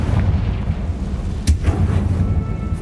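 A Confringo fire spell detonates in the Hogwarts Legacy game with a sharp blast, followed by rumbling low booms and crackling debris over a heavy, continuous low-end roar.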